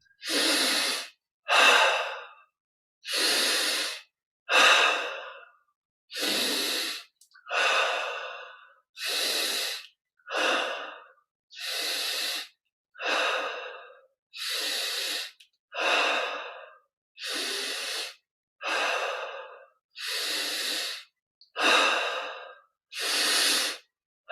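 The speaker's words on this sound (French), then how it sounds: "Encore 5 respires. Prenons un peu plus d'air pour les dernières." Slow, deep breaths during guided meditation, about a dozen long inhale-exhale cycles paced evenly, close and clear with no talking.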